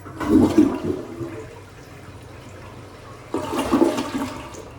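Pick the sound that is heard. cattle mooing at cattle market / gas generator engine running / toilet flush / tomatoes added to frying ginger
toilet flush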